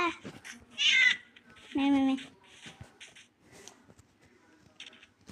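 A couple of short, high meows from a cat in Minecraft sound amid a person's excited talking, with quiet clicks and background noise in between.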